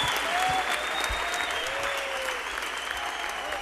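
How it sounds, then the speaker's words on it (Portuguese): Steady applause from a church congregation at an evening worship service, dense and continuous throughout, with faint overlapping voices and a sustained tone beneath the clapping. "salva de palmas"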